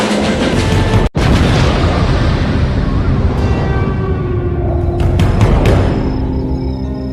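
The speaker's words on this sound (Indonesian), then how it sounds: "Setelah suara ledakan yang bikin jantung hampir copot itu menggema" A loud, sustained booming roar fills the clip, rumbling and dense with a brief sharp drop partway through, then a long ringing tail.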